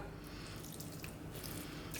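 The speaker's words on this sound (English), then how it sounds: "Now we're going to add a little splash of milk" A splash of milk is poured into mashed potato for a chicken mushroom potato pie, giving a faint, brief wet trickle with soft drips.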